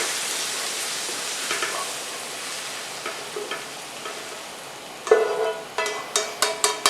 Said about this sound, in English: Now that I have my sweet Italian sausage and ground meat brown where I want it, oh my God, we're going to drain it.